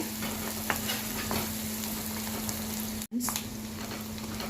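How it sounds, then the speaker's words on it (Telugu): Onions and green chillies frying in oil in a kadai, with a steady close sizzle and faint stirring, broken by a brief dropout near the end. "ఆనియన్స్ వేగుతున్నాయి"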